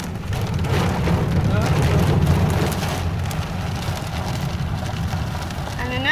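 Hail and heavy rain pour down during a severe storm, a dense continuous drumming and pattering close by, with a person's voice faintly under the din.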